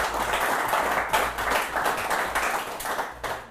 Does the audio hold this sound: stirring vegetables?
no